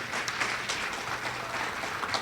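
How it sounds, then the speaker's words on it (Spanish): Church congregation clapping together in a steady, even round of applause, moderately loud with a roomy feel and no talk over it. "¿Por qué no damos un aplauso a Dios por todos los servidores"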